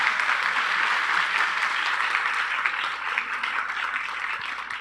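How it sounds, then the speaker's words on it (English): Steady audience applause for a panel at a community food forum, many hands clapping in a dense, even wash that holds for about five seconds and eases slightly toward the end, with no talk over it. "let's give a round of applause for our panelists,"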